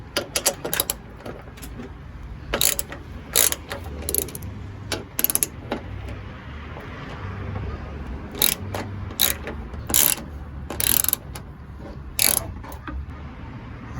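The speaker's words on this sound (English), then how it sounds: "just loosen it with your ratchet, but if you have a power wrench, go ahead and use it just to speed up the process" Rapid ratchet clicks come in short repeated bursts, close and crisp, as bolts are loosened during radiator replacement on a Ford F-250 to F-550 Super Duty truck, with faint shop background between strokes.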